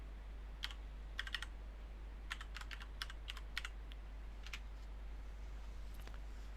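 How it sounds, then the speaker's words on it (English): Computer keyboard typing at a desk comes in quick bursts of crisp keystrokes, close and fairly quiet, with short pauses between clusters of clicks and no talking. "If we go to Google and I type in distro watch"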